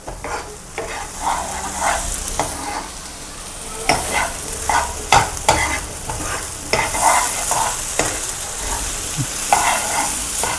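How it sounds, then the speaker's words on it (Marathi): Raw mango chutney sautéed over low heat, with a spoon scraping and stirring the pan under a soft, continuous sizzle; frequent clinks and scrapes sound close, and no one talks. "आपण याला थोडंसं हे करून घेऊया, छान परतवून घेऊया बारीक मंद आचेवर."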